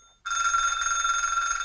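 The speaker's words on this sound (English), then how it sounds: "It sounds like a phone." An electronic telephone ringing begins abruptly after a moment of quiet, a bright steady trilling tone sustained loudly to the end.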